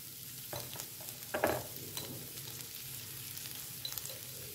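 Salt, cumin powder and dry mango powder mixed together in a bowl with a spoon: faint, close scraping and stirring, with one louder scrape near the start over a quiet sizzling background.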